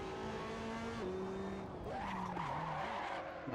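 Race car tires squeal and skid under locked brakes in a racing video game, a continuous loud screech over steady engine noise, with a brief spoken exclamation.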